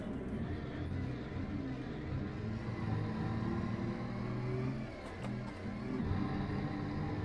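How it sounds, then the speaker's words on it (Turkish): An old Tourismo bus engine in Euro Truck Simulator 2 drones steadily at moderate volume, its pitch rising and falling with frequent gear changes, with a brief whoosh partway through. "Sesi çok iyi. Harbiden sesi çok iyi bu arada. Bir de devamlı vites atmanız gerekiyor."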